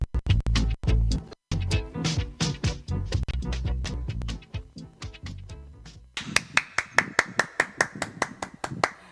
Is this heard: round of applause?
yes